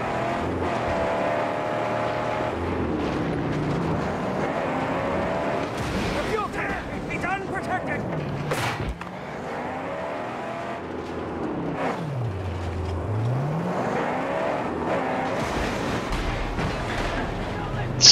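Cars drive through the Mad Max video game wasteland, a steady engine drone with rising and falling pitch sweeps as vehicles pass and rev, loud and continuous beneath a busy game mix.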